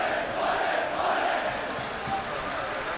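Galatasaray football fans chant and cheer from the stands at an open training session, a dense, steady crowd roar heard from a distance with no clear speech over it.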